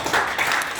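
Audience applause at a Korean policy forum on seaweed farm conditions, a brief burst of many hands clapping at moderate volume, dense and steady throughout with no voices over it.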